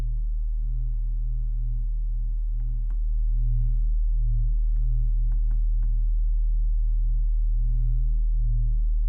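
A synthesized sub bass tone for minimal drum and bass: a deep, loud, steady sine-like hum with slow pulsing swells, heard alone. A few faint clicks sit on top and the level steps up slightly partway through.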